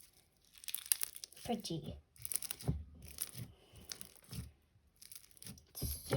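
Crunchy slime from a Peachybbies unboxing is squeezed and pressed close up, giving bursts of crackling, crinkling crunches in an irregular rhythm, with a voice speaking briefly.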